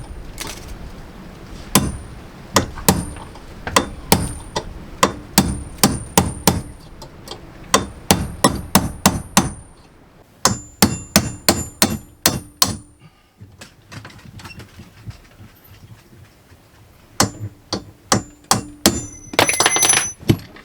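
Repeated sharp metallic hammer taps on a pin in quick bursts, close and loud, with short pauses between the series.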